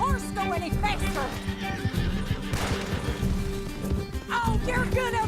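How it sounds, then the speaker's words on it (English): Horse neighing and whinnying during a gallop in the Red Dead Redemption II video game, several loud whinnies over a busy, continuous mix with hoof clip-clop and voices talking throughout. "Can't this horse go any faster?"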